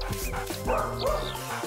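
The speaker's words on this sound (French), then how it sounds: "Le chien a senti l'odeur de la saucisse." An excited dog on a shoreline barks and yips rapidly after catching the scent of sausage, its favourite treat. The barks come in a quick, steady string, close and prominent over a continuous background.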